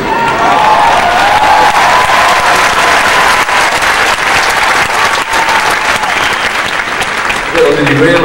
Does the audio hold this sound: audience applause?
yes